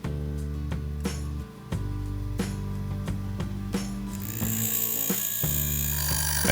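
A metal drill bit's cutting edges are ground on a sharpening wheel, with a steady motor hum broken by repeated short scraping contacts and a brighter grinding hiss toward the end, close and with no talk.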